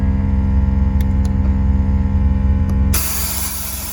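Air suspension pump on a supercharged LS-swapped Jeep XJ Cherokee runs with a steady loud droning hiss and hum, then drops to a lower, airier rush near the end.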